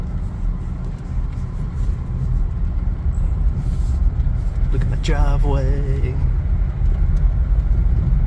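A 2007 Honda Civic with misfires, hesitation and little power hums low and steady while driving down a driveway, its engine note rising slightly; a person talks briefly midway over the rumble.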